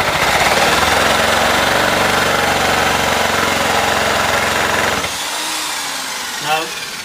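A power drill runs loud and steady with a rough, vibrating whine after its chuck has come off, then cuts out abruptly, leaving a quieter background hum.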